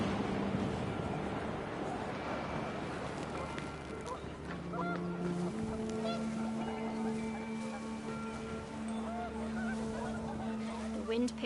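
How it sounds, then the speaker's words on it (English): Panicked geese honking in the video game What Remains of Edith Finch, a flurry of overlapping honks over windy ambience, growing more distinct and tonal in the second half, moderately distant. "panicked geese appeared and quickly went"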